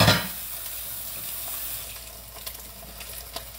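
Fish sizzles and spatters in a hot frying pan in a kitchen, a faint, continuous crackle with a louder burst at the start and no talking.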